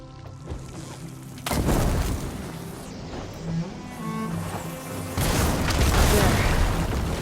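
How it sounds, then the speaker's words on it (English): Blaze barrels struck with fire ammo erupt in a booming blast in Horizon Forbidden West, with one broadband burst near the start and a second heavy explosion later, over continuous game ambience and music. "Hitting those blaze barrels with fire ammo should do the trick."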